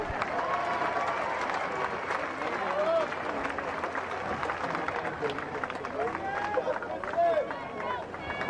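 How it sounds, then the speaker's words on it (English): Crowd applause and cheering fill a swimming championship arena after a women's race, with steady clapping and a murmur of voices throughout and a brief louder swell near the end. "Give those ladies a round of applause."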